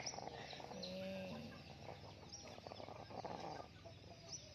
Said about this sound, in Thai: นี่คือไก่สามเดือนนะคะ